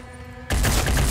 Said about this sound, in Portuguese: Acho que eu vou só atirar nesse maluco daqui